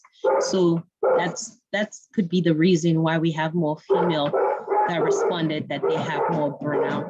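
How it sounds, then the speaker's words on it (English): A dog barks and yips indoors in the background, brief bursts scattered beneath continuous close speech from someone talking at length. "Sorry, I don't know if you can hear my dog."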